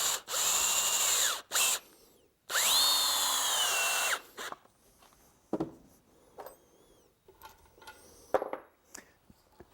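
A power drill drives large Torx head screws into wood, with two long high whining bursts followed by shorter spurts, clicks and knocks as the screws seat.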